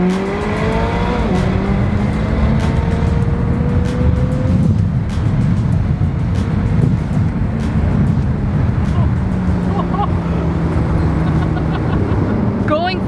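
McLaren 600LT Spider on Pirelli tires pulling hard from a dig, its engine note rising steadily in pitch through the gears with loud, continuous roar and a brief shift dip, people talking over it inside the car.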